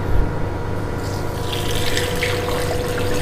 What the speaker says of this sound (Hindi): अभी इसमें पानी डाल रहे हैं।